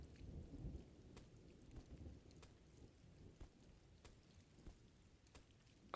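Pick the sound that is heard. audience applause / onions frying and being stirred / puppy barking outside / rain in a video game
rain in a video game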